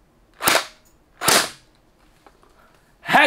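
A Splatrball gel blaster fires three sharp cracking shots at a wall indoors, spaced about a second apart, with a faint click between the second and third.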